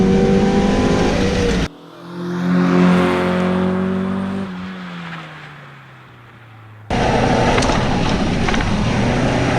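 A stock Mazda Miata engine revs up, with the note rising and then falling away, heard alone between stretches of loud wind-buffeted driving noise.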